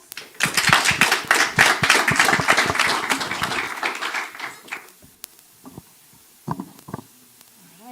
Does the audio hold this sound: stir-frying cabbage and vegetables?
no